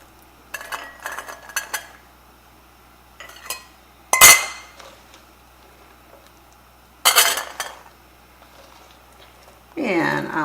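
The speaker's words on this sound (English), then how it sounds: "So we're going to start filling our very hot jars." Very hot glass canning jars being filled with refried beans clink and knock in scattered bursts, with sharp glassy taps and scraping, close up in a kitchen with a voice talking.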